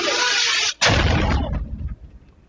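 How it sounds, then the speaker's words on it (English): Explosions from a drone attack on an aid flotilla sailing at sea off Greece near Crete: two loud, heavy blasts in quick succession, then a rumbling roar that fades away. "more than a dozen explosions were heard around the flotilla as it sailed off Greece late on Tuesday"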